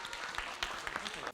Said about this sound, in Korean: 마지막인 만큼 많은 박수 부탁드립니다.